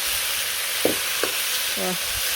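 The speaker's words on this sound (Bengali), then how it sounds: "তো সরষে নামানোর পরে এপাশে কচুর শাক দিয়ে দিলাম" Taro leaves dropped into a hot pan after mustard has been taken off fry with a steady, close sizzle, broken by a few brief knocks and scrapes of stirring.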